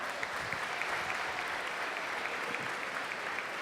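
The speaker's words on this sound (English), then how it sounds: "please welcome with a round of applause Mrs. Munoz, our Central Middle School principal" Steady, dense applause from a large school assembly audience of students, parents and relatives welcoming the middle school principal at an eighth grade awards ceremony, continuous and even throughout.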